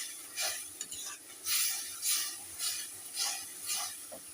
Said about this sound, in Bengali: আবার জল দিয়ে একটু আবার ভালো করে নেড়ে নেবো